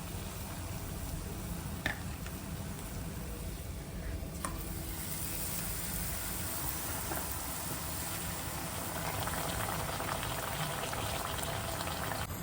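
Mirchi bajji fry in hot oil, a dense, steady bubbling sizzle that stays loud and close throughout, with a few faint clinks.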